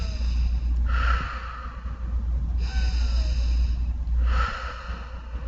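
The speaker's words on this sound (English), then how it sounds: "You can do square breathing." Slow, deliberate square breathing, three long audible breaths spaced evenly over a steady low hum, close and unhurried.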